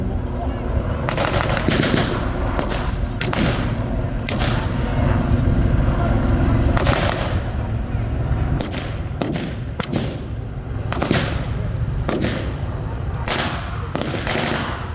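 Sustained WW2 battle gunfire roars throughout: rapid machine-gun bursts and sharp repeated shots over a dense, loud rumble, with heavier booming reports punctuating the racket.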